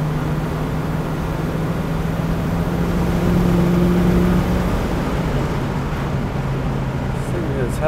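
A 1966 Ford Mustang Fastback drives at about 45 mph, its engine pulling through the rev range. A low engine drone rises briefly in pitch, under steady road and wind rumble.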